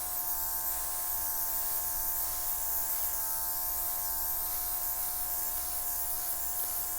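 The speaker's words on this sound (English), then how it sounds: "I think I need to blow a little bit more of the paint" An airbrush spraying acrylic paint for a butterfly fluid-art piece gives a steady, close hiss with a faint buzzing hum underneath, continuous and unbroken, with no talk.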